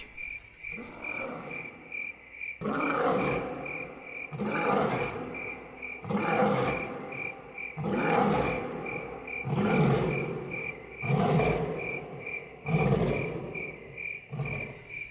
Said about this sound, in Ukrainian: Це заревів лев, що прокинувся голодний та лютий.